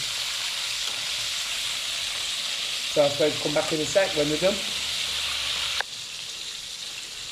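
Oil sizzles and crackles steadily as chicken pieces double-fry, a constant hiss close by, with someone briefly speaking over it.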